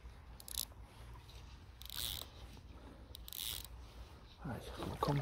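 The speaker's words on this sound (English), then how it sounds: "I do crunch the barbs on the ones that have barbs on, by the way." Barbs on fishing fly hooks being crushed, with a few short, sharp crunching clicks spaced apart, close and faint against quiet riverside background.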